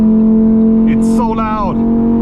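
A Lamborghini Huracan EVO Spyder's V10 drones loudly and steadily while driving toward the Autobahn, with a voice rising briefly over the engine midway.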